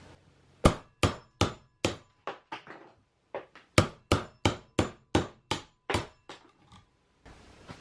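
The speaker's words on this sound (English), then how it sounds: "I can then come back with the chisel and the hammer and just knock these out." A hammer drives a chisel to knock out wood between cut grooves, giving sharp, loud strikes in quick bursts of four or five with a short pause between groups, close by with no talking.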